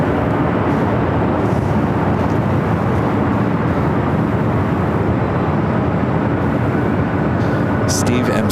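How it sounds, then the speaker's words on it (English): A 28-year-old Delta Boeing 767-300ER jet bound for Honolulu roars steadily at LAX, a loud continuous broadband engine rumble with a voice talking over it. "Delta 767 to 300ER heading to Honolulu, flight 485."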